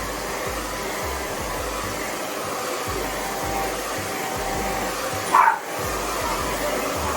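A Conair Super Bird hair dryer whirs steadily and loudly throughout, with a short dog yelp breaking through near the end.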